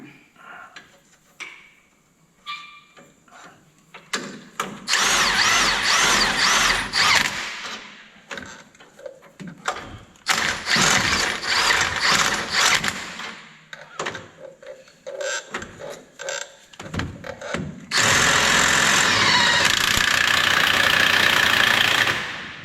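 An impact-style power tool tightens bolts on an off-road wrecker, firing in three loud sustained bursts of whirring and rattling, separated by quieter clanks and handling noises, with the last burst the longest.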